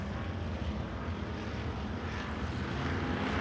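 Race car engines roar steadily in a continuous droning wash at Devils Bowl Speedway during a race, fairly distant and unbroken, with no talking.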